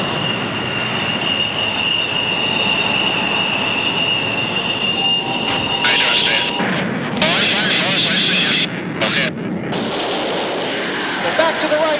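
An F-4 Phantom jet of the Blue Angels roars loudly and continuously as it accelerates on takeoff at an air show, a steady dense engine rumble with a brief surge in the middle, heard from close by.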